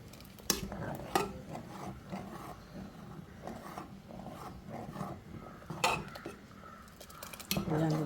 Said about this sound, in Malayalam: നന്നായിട്ടൊന്ന് മിക്സ് ആവട്ടെ